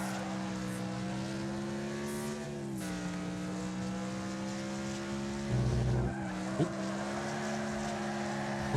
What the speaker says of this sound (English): It was the rumble strip.